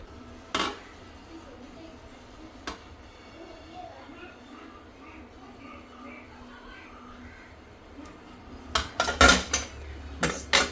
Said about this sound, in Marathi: आता ह्याला असं तवा उलटा करून शेकून येते व्यवस्थित ना